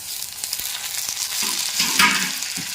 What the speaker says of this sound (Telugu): ఇప్పుడు ఏం చేయాలంటే ఇగో టమాటా ముక్కలు వేసేస్తున్నాను